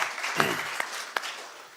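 Brief, thin applause from a small audience at a budget dialogue breakfast in Namibia, a few scattered claps standing out over a soft wash of clapping that fades quickly.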